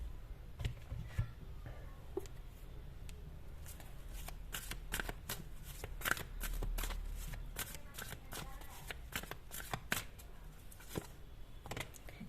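Tarot cards are shuffled close by in a long run of quick, crisp riffling flicks and slaps, irregular but continuous, fairly quiet with no talking.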